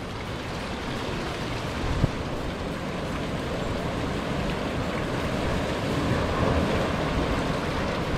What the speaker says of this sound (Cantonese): 呢個太平洋浪花